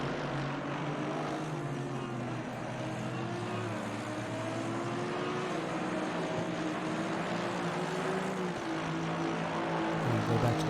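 Helicopter noise from the chopper camera in a racing video game at Silverstone, a steady droning rotor and engine hum that runs continuously at moderate loudness.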